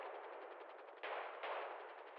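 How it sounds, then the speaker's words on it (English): Gunfire in a GTA V NoPixel roleplay shootout at locals, a rapid, evenly pulsing automatic burst, thin and somewhat distant, with two sharper surges partway through. "Shooting at locals"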